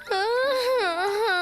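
A cartoon character gives a high, wavering wail of crying, one sustained sobbing cry that rises and dips in pitch, loud and close.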